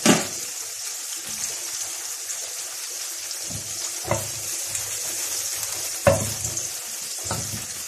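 Minced garlic sizzles and fries in a pan as the base of a sauce, a steady crackling hiss broken by a few louder stirring clatters.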